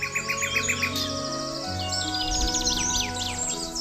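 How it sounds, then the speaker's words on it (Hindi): Several wild birds sing and call at once, bright chirps and trills overlapping continuously over a steady low hum, close and fairly loud. "इन सारी चिड़ियों में एक चीज समान है, इनकी पुकार की मधुरता"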